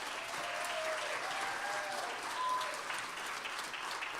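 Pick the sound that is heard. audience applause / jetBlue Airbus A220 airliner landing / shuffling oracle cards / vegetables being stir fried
audience applause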